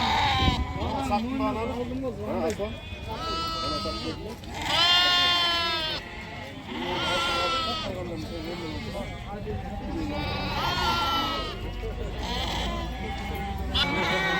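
Sheep and young lambs at a livestock bazaar bleat loudly and repeatedly, several animals calling over one another in overlapping cries, with people talking in the background.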